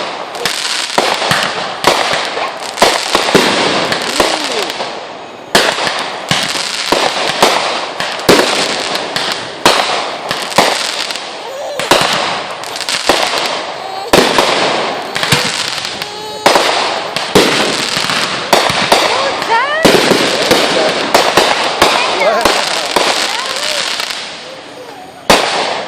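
Fourth of July fireworks, 2014: a dense, continuous barrage of loud bangs, crackles and rapid firecracker pops, bursts overlapping with hardly a pause throughout, with faint voices mixed in.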